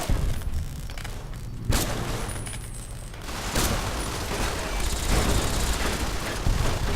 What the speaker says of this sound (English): all of the robots will just start shooting at you